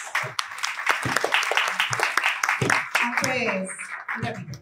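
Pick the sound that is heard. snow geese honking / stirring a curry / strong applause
strong applause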